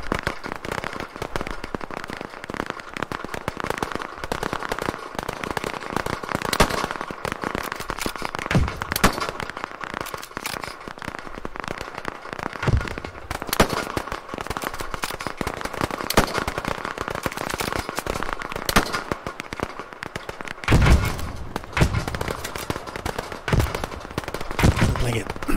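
Gunfire in the video game Operation Harsh Doorstop, dense crackling shots and bursts that run almost nonstop at moderate loudness, with a few louder cracks near the end.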